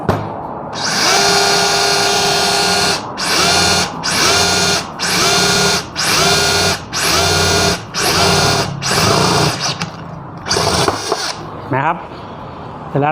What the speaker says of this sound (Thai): เดี๋ยวผมจะลองทำการนะครับ เจาะเหล็กนะครับ